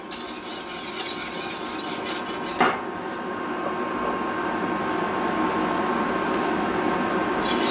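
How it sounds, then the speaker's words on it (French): Spoon scraping and stirring caramel with fleur de sel in a pan, continuous metallic scraping strokes, close up, with one sharper knock partway through and no talk. "on racle bien ce qui reste sur le fond. On mélange comme il faut."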